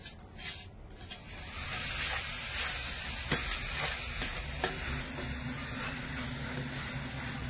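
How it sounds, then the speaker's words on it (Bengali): Palm jaggery melting in a pan, stirred steadily, with a continuous sizzling hiss and soft scraping strokes close by, and no talking. "এবারে নেড়ে ছেড়ে গুড়টা একটু গলিয়ে নেব।"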